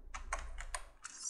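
Keys clatter on a computer keyboard in short bursts of typing, several quick clusters of keystrokes, close and clear with no voices.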